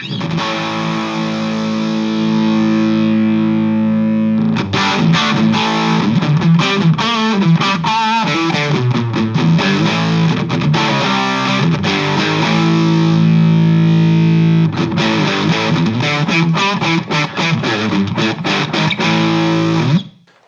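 Heavily distorted electric guitar through a Suhr Badger 30 MK II amp with power amp drive maxed, sustained crunchy chords alternating with busier strummed passages, loud and close.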